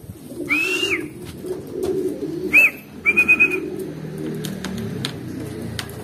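Racing pigeons coo and flutter nearby at a pigeon race drop-in, with a few whistled calls and soft rustling in the background.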